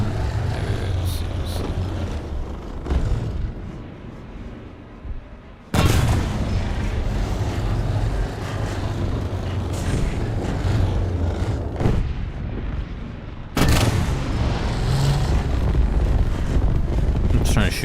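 Heavy tank cannon blasts in War Thunder boom out in two loud, sudden shots spaced several seconds apart over a constant rumble of engine and battlefield noise.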